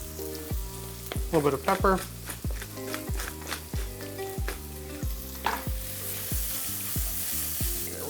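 Onions sizzle steadily in a hot pan, a constant bright frying hiss under rhythmic tapping and scraping from stirring, while a person speaks briefly.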